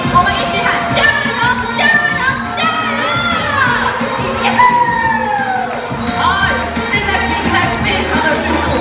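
A lively audience at a sea lion show in Hualien's Farglory Ocean Park shouts and cheers together, children's voices prominent, a dense steady roar of crowd noise with rising whoops throughout.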